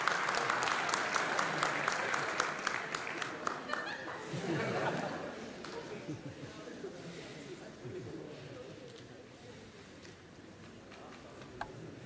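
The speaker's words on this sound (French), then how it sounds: "On peut l'applaudir encore bien fort." An audience applauds loudly with dense, rapid clapping that fades after about four seconds into murmured crowd chatter and a few scattered claps.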